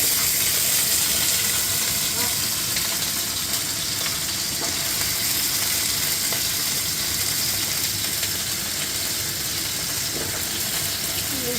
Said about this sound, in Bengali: চিংড়ি মাছ, মিষ্টি কুমড়া, আলু দিয়ে রান্না হচ্ছে